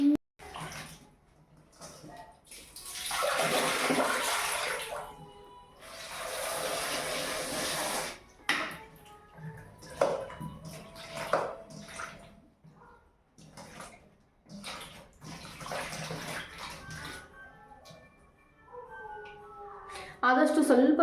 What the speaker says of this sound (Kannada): ಬಟ್ ಏನು ಅಂತಂದರೆ ಒಂದು 2-3 ಸಲನಾದ್ರೂ ನೀಟಾಗಿ ವಾಶ್ ಮಾಡ್ಕೊಬೇಕಾಗುತ್ತೆ.